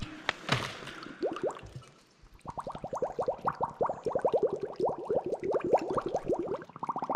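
Water bottles being filled in the Chernobyl Exclusion Zone, a dense run of rising gurgling glugs as liquid pours in, preceded by a splashy burst and a short pause, close and fairly loud.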